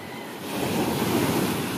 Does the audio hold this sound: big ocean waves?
yes